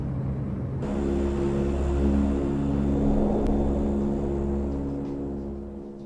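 A seaplane's engine in the Resident Evil: The Darkside Chronicles video game sets in abruptly as a loud, steady droning rumble that swells and fades slightly and continues throughout.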